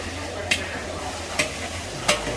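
A wok at a street-market stall sizzles steadily as fresh food is stir-fried. Three sharp metal spatula clanks ring out at even intervals over the frying hiss and low market hum.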